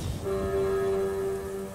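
A ship's horn honks in the video game TOEM, one long, steady, loud blast sounding alone for over a second.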